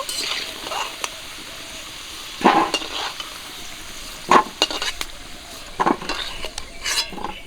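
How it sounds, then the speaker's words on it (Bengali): Potatoes fry in hot oil for a chicken curry, giving a soft sizzle under scattered scrapes and clinks of a utensil against the pan, with several louder bursts of stirring. "আলুগুলো লাল করে ভেজে নিয়েছি তুলে নেব"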